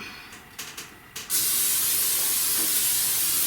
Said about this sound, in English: just very lightly spray my cookie sheet